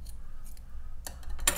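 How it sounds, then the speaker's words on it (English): Scissors snip through crochet yarn after a finished skirt piece, one or two short crisp cuts close up against a faint room hum. "And then you're going to chain one and cut your yarn."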